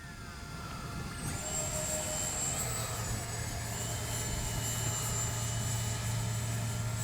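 A small jet-powered RC model F-15 by X-FLY, 40 mm, whines steadily overhead, its high turbine tone holding on and rising slightly in pitch, with a low engine rumble underneath.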